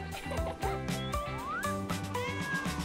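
A cartoon cat meows amid a busy children's cartoon scene, its voice rising and gliding over bright background music with no talking.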